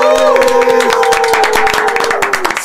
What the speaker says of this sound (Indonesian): Kita tepuk tangan yang meriah buat Many-Ways.